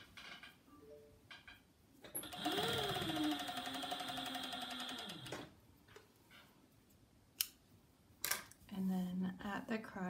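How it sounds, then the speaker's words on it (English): A sewing machine stitches the side seam of a pair of underwear in one close burst of about three seconds, a steady mechanical whir, bracketed by clicks, handling noises and a spoken voice. "I'm gonna stitch the side seam."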